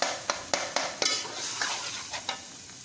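Minced meat, tomatoes and chillies fry in a covered pot for keema pulao, with a steady hiss broken by a series of sharp metallic taps and clatters.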